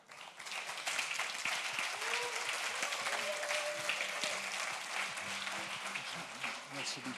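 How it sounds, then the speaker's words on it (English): Applause from an audience at an open source conference as a presenter is welcomed on stage, fairly quiet and distant, sustained throughout with some talking mixed underneath. "Applause"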